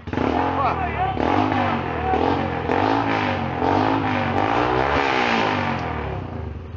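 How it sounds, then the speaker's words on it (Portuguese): A motorcycle on a dirt trail strains up a small hill, its mid-pitched engine revving and surging steadily and close by, with voices talking over it. "Mas eu tentei controlar a moto desse morrinho aí."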